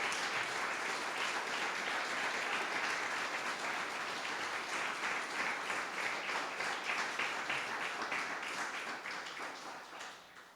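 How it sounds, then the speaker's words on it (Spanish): A church congregation claps in praise, a dense sustained round of applause at a fairly faint, distant level that holds steady for several seconds before fading out. "Dale un aplauso al Señor, hermano."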